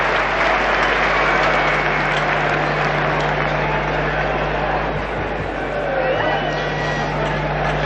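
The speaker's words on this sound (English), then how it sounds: "the round of applause is for Martin Snedden's completion of his 10 overs" A cricket crowd applauds a bowler finishing his ten overs late in a 1985 Pakistan versus New Zealand one-day international, a broad, steady wash of clapping from a large stadium audience, with a low hum running underneath.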